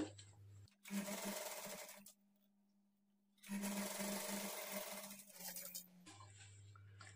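A sewing machine runs straight stitching along a marked line on a blouse seam. It gives two long, even whirring runs split by a brief quiet pause. The sound is close but recorded at low volume, with no voices.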